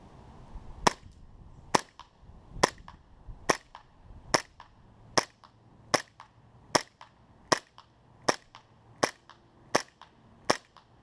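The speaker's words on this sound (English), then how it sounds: "Fire 10 shots and see how many we can get on target." An ASG CZ P-09 airsoft pistol fires about thirteen sharp, snappy shots at a steady rhythm of roughly one per second, each crack close and clear over a quiet background, aimed at a target some 25 to 50 feet away.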